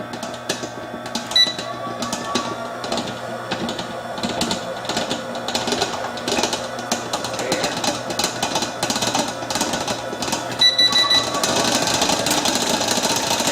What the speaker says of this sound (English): I got rid of my hand mixer when I got this